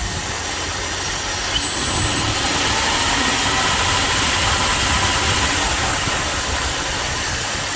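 Engine of a Dodge W300 Club Cab pickup with worn valve guides and a cylinder misfire, held at a steady 2000 rpm as a continuous loud drone with hiss, jumping slightly after the first second and then settling.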